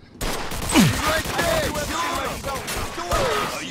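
Gunfire in the Mafia II video game, with several sharp shots and impacts over a busy mix of shouting voices and game effects.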